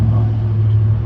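Traffic passing by on a quiet street, a steady low rumble of a vehicle going past at moderate distance that holds constant through the short clip.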